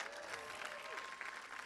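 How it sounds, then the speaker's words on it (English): Crowd applause at a high school graduation ceremony, faint and distant, a brief steady wash of clapping with some whistling tones mixed in. "Give them a round of applause, folks."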